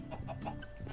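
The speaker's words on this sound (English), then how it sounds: "I'll leave your little man rooster here just wandering around checking stuff out for you" A rooster in Minecraft gives a quick run of soft clucks, four or five short calls in about a second, with nothing else over them.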